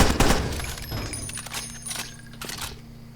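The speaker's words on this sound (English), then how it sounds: "a downside to the Dragunov sniper rifle is it does a lot less damage than the AMR" Dragunov sniper rifle shots in Far Cry 2, with a burst of sharp cracks near the start followed by fainter pops and echoing rattles that fade out over a few seconds, with no speech.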